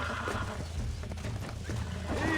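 Horse neighing in the video game Red Dead Redemption: a whinny rises within a dense game soundscape of music and ambience, fairly loud and continuous over the short span.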